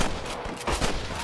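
Gunfire from snipers in the Red Dead Redemption video game, loud dense shots in quick succession that fill the whole moment, with no talking.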